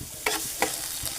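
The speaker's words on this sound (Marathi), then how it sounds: "आणि आपण हे चांगल्या प्रकारे परतून घेऊ." Garlic paste being sautéed in a pan for a Maharashtrian val bean curry, a soft continuous sizzle broken by a few brief stirring scrapes, close and fairly quiet with no voices.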